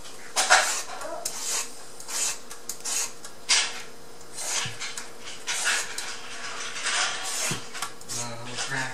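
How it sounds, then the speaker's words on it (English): A vegetable peeler scraping along produce, making repeated short rasping strokes in an irregular rhythm, close by, with faint clinks of kitchenware between them. "This one, the peeler"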